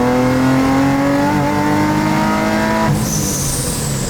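Turbocharged Toyota GT86 accelerating hard while building boost, a loud, close engine tone climbing steadily in pitch, then a sharp break as it shifts and settles into a lower note with a high turbo whine.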